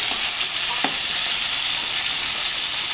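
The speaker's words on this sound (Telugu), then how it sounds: "ఆయిల్ వేడైనాక టమాటాలు వేసేసుకుందాం ఆయిల్లో." Tomatoes frying in hot oil for a homemade tomato chutney, a loud, dense, continuous sizzle close by, with a couple of faint utensil scrapes early on and no voices.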